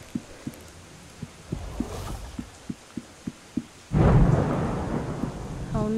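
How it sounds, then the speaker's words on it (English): In the fantasy game The Wizards, a series of soft regular thumps gives way to a sudden loud rumble of thunder and steady rain, which continue as a dense wash. "I don't like the rain."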